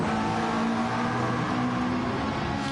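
A McLaren race car on a straight at Mount Panorama, Bathurst, during a race, its engine droning loud and steady with a sustained, slightly wavering pitch.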